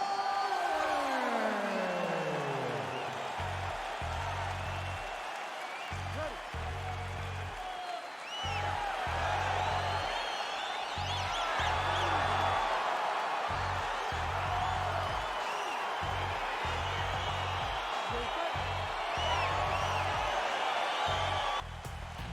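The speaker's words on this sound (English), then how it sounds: "crowd getting excited as this fight gets underway" Arena crowd noise swells and cheers steadily as a featherweight title fight gets underway in the UFC 4 video game, a broad sustained roar under low rhythmic music pulses, with no speech.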